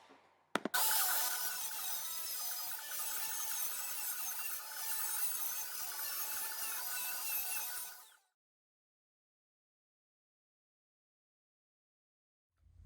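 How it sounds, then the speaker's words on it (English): A Ridgid angle grinder with a cutoff wheel cutting perforated metal: a harsh, high-pitched grinding whine runs loud and steady for about eight seconds, then stops abruptly, leaving silence. "the rigid angle grinder with the cutoff wheel, so we can cut our perforated metal to the desired size"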